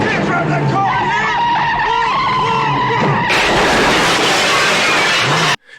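A car tears through a showroom in a movie scene, engine revving hard with skidding and a burst of crashing, breaking debris near the end, all loud and close amid brief shouting voices.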